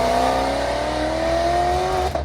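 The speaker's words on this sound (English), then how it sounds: "their exhaust symphony" A Maserati's Ferrari-sourced engine revs steadily with a rising exhaust note, loud and close, the pitch climbing smoothly for about two seconds before a brief drop.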